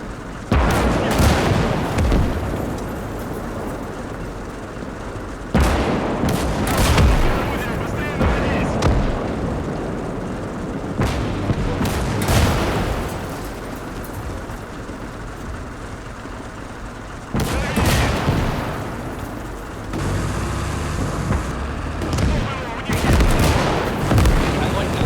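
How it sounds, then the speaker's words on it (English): A heavy artillery bombardment hits in the WWII strategy game Gates of Hell. Deep booms and blasts recur over a constant rumbling battle backdrop. The louder impacts land in clusters with calmer stretches between them. "The enemy has deployed heavy artillery from the northwest. They're trying to bombard us from afar."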